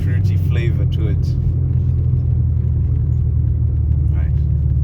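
Inside a BMW E36, the engine and exhaust give a deep, steady rumble that runs the whole time, with a person talking over it near the start.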